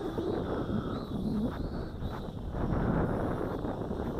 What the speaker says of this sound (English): the wind is blowing real strong behind me.